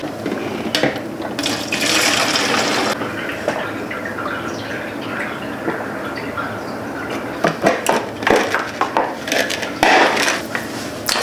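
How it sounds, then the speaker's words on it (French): Water running into a bottle from a tap, with splashing and a rising fill sound, followed by clattering and knocking handling noises near the mic. "Je remplis ma bouteille."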